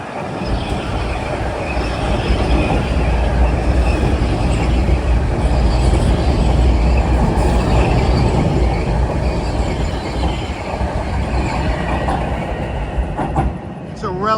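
A Hudson Line commuter train rumbles past on the rails in Harlem, a loud, continuous roar with rattling wheels and occasional high squeals, steady throughout.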